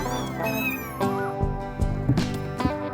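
A kitten meows repeatedly up close, several drawn-out, wavering cries in quick succession with no talking.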